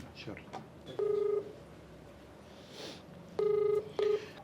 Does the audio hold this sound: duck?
no